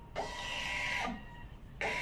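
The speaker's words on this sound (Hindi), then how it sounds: "यहाँ पे प्रिंट बिल पे क्लिक करेंगे, यहाँ से हमारा प्रिंटर से बिल निकल के आ जाएगा।" A billing printer runs off a GST invoice from POS software, giving two bursts of loud mechanical whirring, a long one then a short one, close and without talk.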